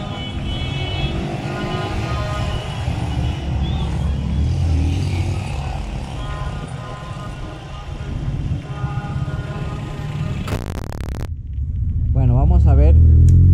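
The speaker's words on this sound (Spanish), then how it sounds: "Hay muchos camiones." Heavy trucks and traffic idle and rumble at a congested roundabout in Villaflora, Ecuador, during a national strike, with a steady low engine drone throughout and a louder engine surge near the end.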